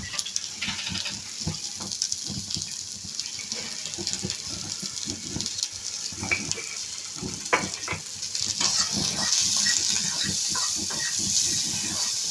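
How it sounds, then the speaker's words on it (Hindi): Onions and mixed vegetables seasoned with salt and black pepper fry lightly in a pan with almost no oil, giving a steady close hiss with scattered crackles and clicks that brighten toward the end, with no voices. "हमने इसको बिल्कुल पकाना नहीं है, बस हल्का हल्का सा फ्राई करके थोड़ा सा नरम कर लेना है।"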